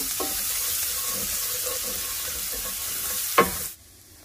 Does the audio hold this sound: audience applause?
no